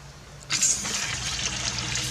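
A water pump, just repaired with new thread sealant, kicks on: a sudden rush of pressurized water bursts in and then settles into a steady, loud hissing flow.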